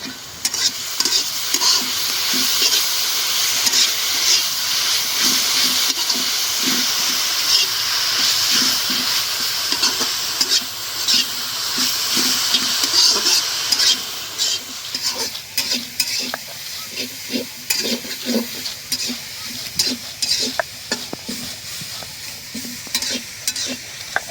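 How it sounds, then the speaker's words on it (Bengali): Pumpkin leaves fry in mustard oil in a pan at an outdoor pond-side kitchen, giving a loud, steady sizzle and hiss close by. Through the second half come rapid, rhythmic spatula scrapes as they are stirred. "তেল দিয়ে ভাজা ভাজা করে ফেলি, বাসনা হবে।"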